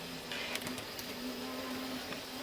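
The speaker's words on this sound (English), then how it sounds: "the motor should run. So here goes, and you can see the worm screws rotating" Small Farish Class 43 HST model train motor running steadily with its worm screws turning, a faint continuous whirring hum with a few light clicks, close and quiet with no voices.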